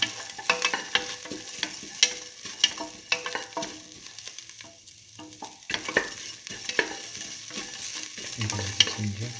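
Garlic with salt frying in a pan for a split mung bean tomato stew, a steady sizzle broken by repeated clinks and scrapes of a stirring utensil, close and alone.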